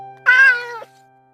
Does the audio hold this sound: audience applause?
no